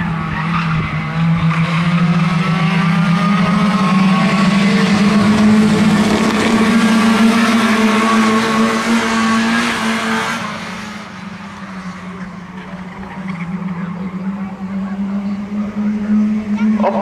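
Race cars at Waterford Raceway roar up the back straight in a loud, sustained engine drone that swells and then eases slightly, with a commentator talking over it.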